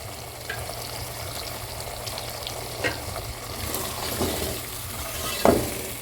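Salt, chilli, whole garam masala and tomato paste frying in a pan for a gourd and chicken curry, a steady close sizzle with a few brief scrapes and stirring clinks.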